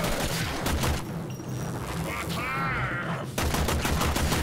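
Rapid bursts of gunfire from shooting enemies in Warframe, loud and near, with a brief lull in the middle before the volleys resume, and game effects running underneath.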